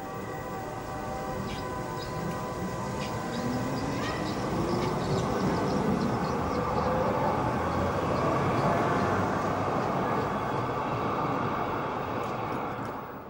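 A tram rolls steadily through Schwerin in East Germany, a continuous rumbling drone with wheel squeal rising and falling over about thirteen seconds, fairly loud and without voices.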